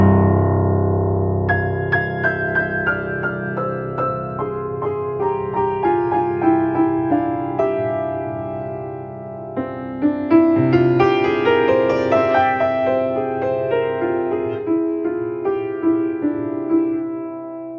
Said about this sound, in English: That's the sound of the fifth mode of the Ascending Melodic Minor.